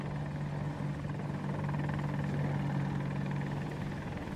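Helicopter in the Battlefield 2042 video game flying close to a giant tornado waterspout, a steady droning rotor and engine hum with a low tonal whine, constant and fairly loud throughout with no talk.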